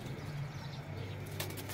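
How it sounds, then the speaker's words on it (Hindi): Pigeons cooing softly and faintly in a brief moment, a low, rounded coo over quiet background hiss, followed by a short flutter or rustle near the end. "ये है भाई, ये हैं, ये भी कबूतर हैं सारे।"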